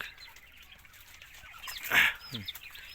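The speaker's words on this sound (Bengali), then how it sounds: "এই যে মোরগ" A rooster clucks a few times nearby at a small poultry farm, a short burst of rough calls over quiet background.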